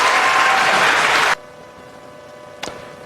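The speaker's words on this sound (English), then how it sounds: "Cheers from a crowd on Fox for a Democrat advocating a tax on big oil" A crowd on a Fox broadcast cheers and applauds loudly and densely for over a second, then cuts off abruptly into quiet, with one brief clap or knock afterward.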